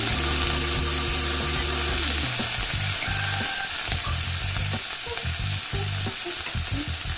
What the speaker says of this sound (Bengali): এর মধ্যে আমি মাছগুলো একটু ভাজা ভাজা করে নেব